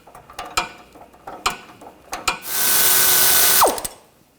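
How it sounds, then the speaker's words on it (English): Hand tools work the nut and bolt on a rear sway bar link of a 2015-2020 Cadillac Escalade, using an 18mm wrench and socket. Several sharp metallic clicks and knocks lead into a sustained loud whirring burst that ends with a quick falling whine. "Using an 18mm wrench and an 18mm socket, you can loosen up the nut and bolt here."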